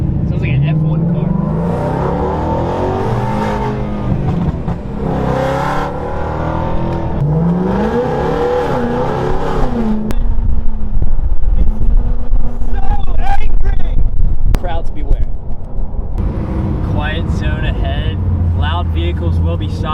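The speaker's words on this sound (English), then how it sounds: "There are a few cars that are contenders for the loudest exhaust I've ever heard" A 900 hp full carbon fiber Revenge GT car revs its loud exhaust up close, deep throaty bursts building into a sustained roar, with someone talking over the first half.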